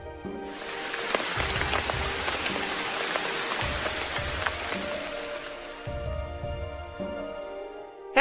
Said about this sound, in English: One day, there was a heavy rain.